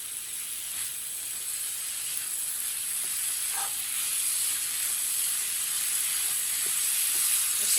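A mixture cooking on high flame in a pan gives off a loud, steady, bright hiss and sizzle that holds evenly throughout, close up and alone.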